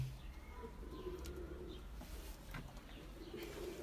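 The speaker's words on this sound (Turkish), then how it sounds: "Mardin kuşu." Mardin pigeons cooing in a loft, soft repeated low coos with faint chirps over a steady background rumble.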